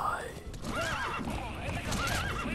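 Repeated horse whinnies and neighs in Metal Gear Solid V, with clip-clop hoof sounds and game effects mixed under talking voices.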